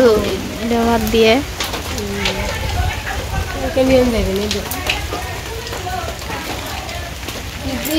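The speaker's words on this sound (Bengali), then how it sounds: "বৃষ্টির জন্য বেরোনো যাইতেছে না।" Steady rain pours down over a village home and lane, a continuous hiss running throughout beneath a voice talking close by.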